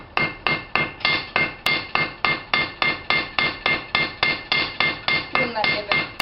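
Hammer forging a hot steel hook, about seventeen sharp, ringing blows struck at a steady brisk rhythm, close and loud, with no talk.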